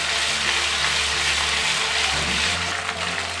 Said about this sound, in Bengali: এবারে আমরা এই রসুন পেস্ট আদা পেস্টটাকে একটু হালকা করে কয়েক সেকেন্ড ফ্রাই করে নেব।